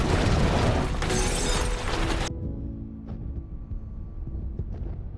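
A nuclear reactor explosion in the film Pandora: a loud, roaring blast with crackling debris cuts off abruptly, followed by a quieter rumble and scattered faint clanks.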